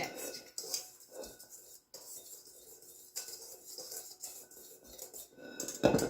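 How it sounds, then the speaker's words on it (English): A whisk scrapes and clinks around a bowl of dry pizza dough ingredients for a Chicago-style deep dish, including sugar, yeast and salt, in quiet, irregular strokes up close. "We're going to whisk this all together so it's well mixed."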